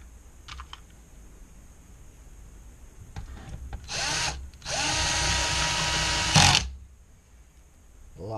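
A power drill drives screws back into a panel, with two sustained whirring runs of a few seconds each, close and fairly loud, following a few faint clicks and handling sounds; no talking.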